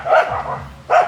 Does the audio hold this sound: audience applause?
no